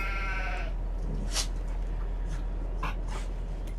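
Sheep bleat in a farming video game on a livestock farm, a short wavering bleat at the start followed by a few brief fainter calls, over a constant low hum, no talk.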